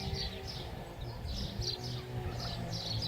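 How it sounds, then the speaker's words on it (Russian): Birds chirp in repeated short bright phrases over a low outdoor rumble from a neighbor's lawnmower, moderately distant and fairly faint, in a village in Kuban, southern Russia, in spring. "Слышите, как птицы поют?"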